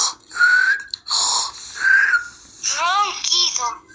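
A storyteller's voice mimics snoring for a children's tale, giving a few drawn-out, wheezy, whistling breaths, close and loud, in a quiet room.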